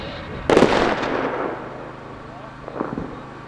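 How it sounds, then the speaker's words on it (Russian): Blasting of breaking spring river ice sends a loud sharp boom followed by a long rumbling decay across the open valley, then a second, weaker thud a few seconds later. "весна в Белой приходит под звуки канонады"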